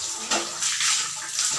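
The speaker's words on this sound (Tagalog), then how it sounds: "Ayan naman ang tubig." Water running from a tap into a bathroom basin or tub, a close, steady splashing stream with slight surges, heard alone without talk.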